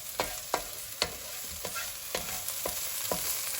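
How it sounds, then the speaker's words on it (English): Onions and green chilli fry in a pan, a soft continuous sizzle broken by about eight regular scraping stirs of a utensil, close and moderately loud with no talking. "Right, this is cooking down now."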